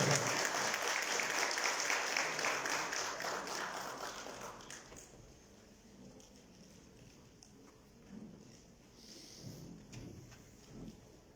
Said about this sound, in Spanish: Lo recibimos con fuerte aplauso.